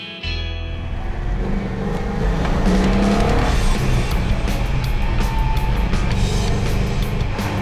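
A 1969 Dodge Super Bee muscle car roars loudly and close, its engine revving hard and holding a rough, heavy drone with rising pitch, no talk over it.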